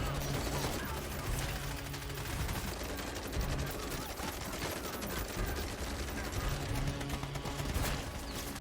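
Rapid bursts of automatic gunfire fired at a ceiling in a film, a dense, continuous rattle of shots with sparks and clatter mixed in, fairly loud throughout with no speech.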